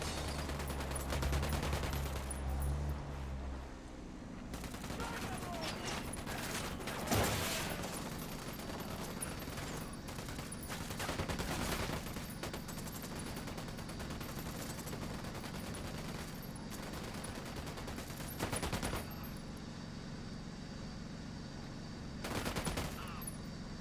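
Gunfire in Ghost Recon Wildlands during a firefight with cartel fighters: repeated bursts of automatic shots and single cracks spread across a long stretch, over a low steady background.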